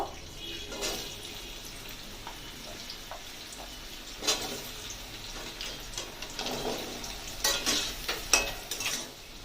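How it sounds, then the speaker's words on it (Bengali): Papaya pieces fry in hot oil for a vegetarian papaya curry, giving a soft, steady sizzle with scattered louder crackles and spoon stirring toward the end, no voices. "আমি প্রথমে পেঁপেগুলোকে ভেজে নেব।"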